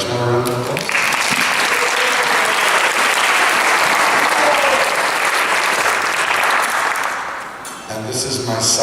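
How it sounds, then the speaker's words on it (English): Loud, full-room applause for a performer at a kirtan gathering in Loyola Chapel, Montreal, sustained and dense before fading near the end, with a voice speaking briefly at the start and close. "Please give Vaishnav a round of applause"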